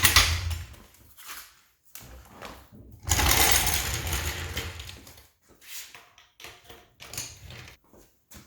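Car being raised with a jack in a home garage during a Honda D16A6 L3 transmission axle seal job, irregular clicks, ratcheting and scraping bursts with pauses between, close and moderately loud.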